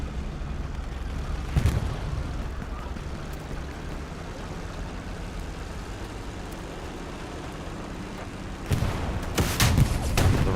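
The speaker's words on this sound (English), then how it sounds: "Rocket to the right." Rocket explosion in Hell Let Loose, a sharp blast near the start and a louder burst of explosions near the end over a constant rumbling battlefield background.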